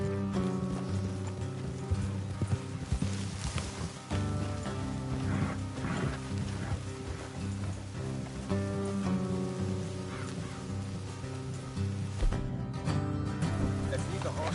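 Steady hoofbeats of horses trotting in Red Dead Redemption 2 run throughout under a dense layer of game music and ambience, with a faint rain-like patter.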